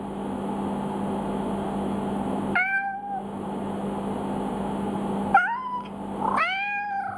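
Two Cats ringtone playing on a Windows 10 phone: three separate cat meows with gaps between them, heard over a steady background hum.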